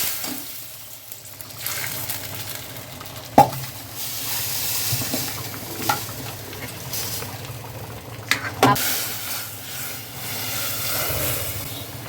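A hot spice tempering poured into a wok of lentil dal with pumpkin greens, giving a soft sizzle and bubbling punctuated by sharp clinks of a utensil, fairly quiet and close.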